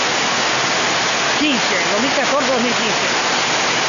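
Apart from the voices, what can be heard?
heavy rain downpour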